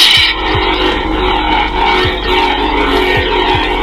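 Scavenger sound font on a Damien Saber base-lit Luke lightsaber, a loud continuous crackling electronic hum with several low swing swooshes, close and alone.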